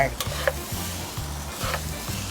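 Rice stir-fried with salt, sugar and seasoning powder in a pan sizzles loudly while a utensil scrapes in repeated rhythmic strokes, close and without speech.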